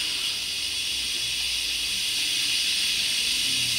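Steam hisses steadily from the steam wand of a La Pavoni Europiccola pre-millennium lever espresso machine, a loud, continuous airy rush with no talk over it.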